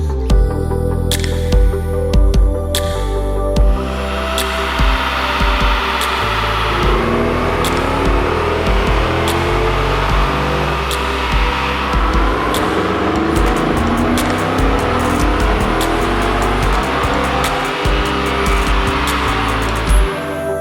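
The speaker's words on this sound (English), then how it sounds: "it was now time to strap the truck back down for another dyno pull" A truck engine running under load on a chassis dyno, a loud sustained roar with harmonic sweeps as revs climb and fall through the pull, steady and close with no talking.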